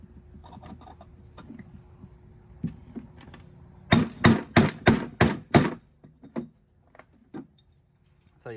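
A punch is struck with a hammer on a Kawasaki Mule clutch, a rapid burst of about six sharp metallic blows, then several lighter, scattered taps amid quiet shop noise.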